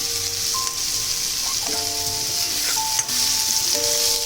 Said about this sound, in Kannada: ಈರುಳ್ಳಿ ಜೊತೆಗೆ ಮೆಣಸಿನ್ಕಾಯಿ ಹಾಕ್ಕೊಂಡು ಸ್ವಲ್ಪ ಫ್ರೈ ಮಾಡ್ಕೊಳ್ತಾ ಹೋಗಬೇಕು